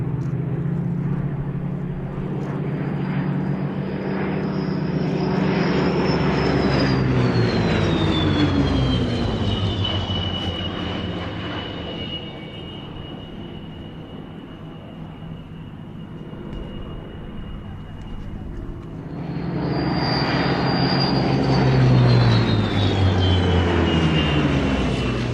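An airplane flies past at an airshow, its engine roar swelling and falling with a sliding pitch that repeats as the aircraft passes again. The sound is steady and fairly loud, with no voices.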